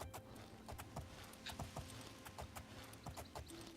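Horse hooves clip-clopping steadily in The Elder Scrolls IV: Oblivion video game, a quick even run of soft hoof strikes throughout, moderately quiet with no talk.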